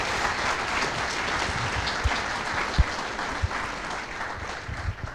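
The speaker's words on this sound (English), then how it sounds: "Please, one more round of applause for these three fantastic speakers." Sustained applause from an audience at a tech conference event, steady and fairly dense throughout with a few sharper individual claps standing out.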